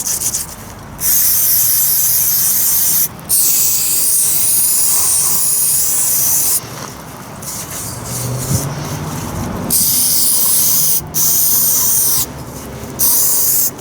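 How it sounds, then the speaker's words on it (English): Brake cleaner sprayed in long hissing bursts onto oily, gooey backhoe parts, loud and close, with several pauses between sprays and softer rubbing or dripping in the gaps. "I don't know what they put in this brake cleaner to just dissolve the oily, gooey crap like that"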